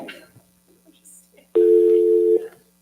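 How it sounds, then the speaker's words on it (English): Telephone dial tone heard while calling back from a public commission meeting, a steady loud tone lasting under a second after faint room noise and brief speech. "Darcy, we're gonna call you back on a cell phone"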